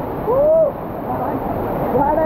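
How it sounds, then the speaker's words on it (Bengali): Mayabi waterfall near Jaflong sends up a loud, steady rushing roar close by, with a short voiced call rising over it twice. "আমরা এখন আছি মায়াবী ঝর্ণার একদম প্রান্তে।"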